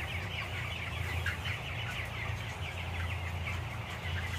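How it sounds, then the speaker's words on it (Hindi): Broiler chickens in an upper poultry shed on day 28, a dense flock clucking and chattering continuously at steady moderate loudness, with a constant low hum of shed machinery underneath. "अब मैं आया हूँ ऊपर वाले शेड में, और ऊपर वाला शेड भी आप चूज़ा देख सकते हैं"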